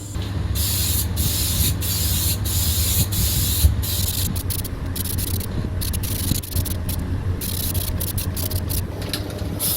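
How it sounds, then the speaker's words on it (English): A spray can hisses steadily as coats of primer and black paint go onto a 1988 Kawasaki KLR650 motorcycle radiator, with continuous close spraying broken by short pauses. "A couple of coats of primer, and then 3 coats of black for the radiator."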